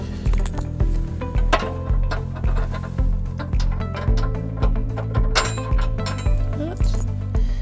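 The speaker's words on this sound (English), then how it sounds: "So now I need to put the U-bolt around the tow hook up here." A metal U-bolt is worked around the tow hook of a 2020 Honda HR-V during a trailer hitch install, giving close, repeated clinks and rattling metal knocks in an uneven rhythm.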